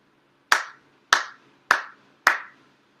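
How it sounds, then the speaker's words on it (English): Four sincere ritual hand claps at a Shinto appreciation prayer service, sharp and evenly spaced about half a second apart, each crisp clap ringing briefly in a quiet room. "4 sincere claps."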